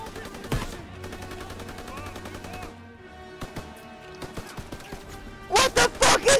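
Gunfire in the World War II shooter Call of Duty WW2 crackles in scattered single shots and bursts, building to a dense, loud volley of rapid shots at the end.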